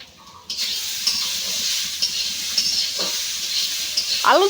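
Carrots fry in a pan at home and are stirred, giving a steady, close sizzling hiss with a few brief scraping stirs near the end.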